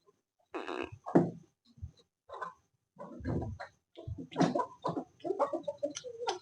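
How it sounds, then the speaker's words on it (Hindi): A rooster clucks and crows in short, loud bursts out in an open yard, with a few uneven pauses between calls and no talk over it. "ये मुर्गा आ गया मैदान में हमारा। प्यारा प्यारा मुर्गा है देखो।"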